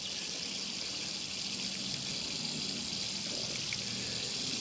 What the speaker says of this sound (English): a nice little drizzle of water.